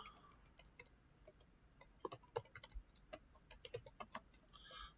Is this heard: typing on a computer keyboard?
yes